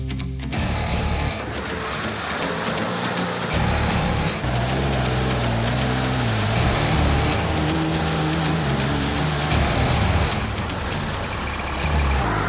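Boosted Moose off-road race vehicle climbing a hill, its engine a loud, steady, continuous roar throughout without pause, with heavy low rumble and no voices.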